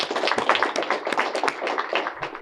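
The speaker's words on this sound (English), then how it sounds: "Let's give them a round of applause for being here." An audience at a Tennessee student mock election event applauds elected officials, producing a brief, dense patter of many hands clapping at moderate volume with no voices.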